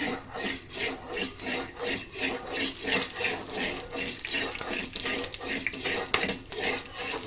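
Peanuts and chilli stirred in a pan over a low flame, a spoon rasping and scraping against the metal in quick, regular strokes, close and fairly steady, with a few sharper clinks.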